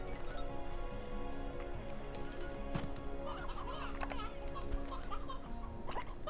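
Chickens clucking in the video game Slime Rancher 2, a series of short clucks and squawks scattered over a humming game background, moderately loud, with brief vocal sounds mixed in.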